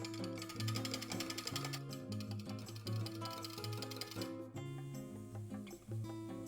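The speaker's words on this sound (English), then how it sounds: "crack in 2 eggs. Give it a quick whisk." Eggs and sugar-free maple syrup whisked for keto pancakes, a rapid, steady clattering of a whisk against the bowl that continues for several seconds, close but fairly quiet.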